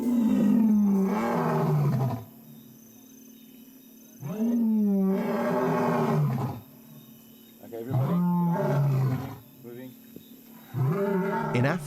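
A lion roars in the wild in Africa, close by and loud, in several long, deep, groaning bursts separated by short pauses.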